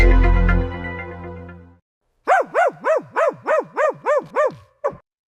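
After a sustained tone fades out, a cartoon guard dog in a Tamil animation barks about nine times in a quick, even rhythm, close and loud, ending with one last bark.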